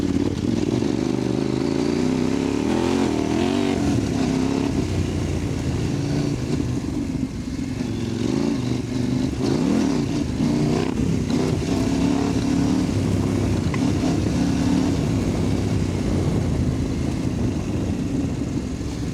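A CFMOTO 800MTX adventure motorcycle ridden off-road on a trail between Neerim and Walhalla, with a continuous loud engine drone that rises and falls in pitch as the throttle changes, plus rumble and clatter, and no talking.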